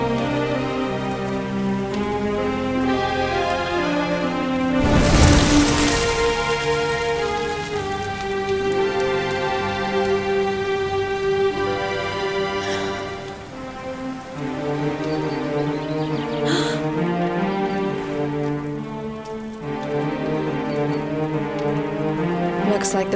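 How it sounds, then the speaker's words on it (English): Steady rain in the video game Dragon Quest XI patters on surfaces under a sustained musical score, with a brief louder splash early on. "Looks like the rain's dying down."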